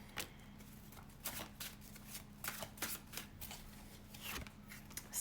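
A tarot deck is shuffled by hand in a series of crisp, papery riffling bursts that come in irregular bunches over a low steady hum, with no voices.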